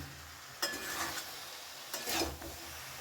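Cabbage being stirred with ghee in a pan for a Bengali fish-head cabbage dish, two short scraping strokes with a soft sizzle, close and quiet, no talk.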